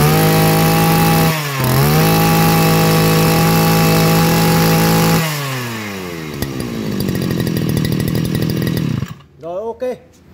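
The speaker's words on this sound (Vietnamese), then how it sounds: "Đây em test nổ cho các bác xem này." A U17 brush cutter engine is started for a test run. It roars loudly at high revs with one brief dip, then drops to a rattling idle, sputters, and cuts off near the end.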